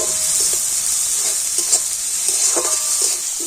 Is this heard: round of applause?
no